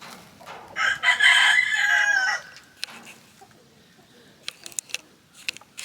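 A hen named Honey, a laying backyard chicken, gives a loud, drawn-out call close by, then falls quiet before a few short, sharp clucks and rustles.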